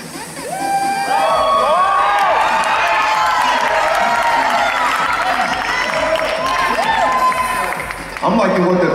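An audience at a novice men's bodybuilding show cheers, whoops and applauds loudly and continuously, with the roar holding steady throughout and dipping only briefly near the end.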